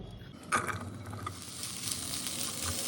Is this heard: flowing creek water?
no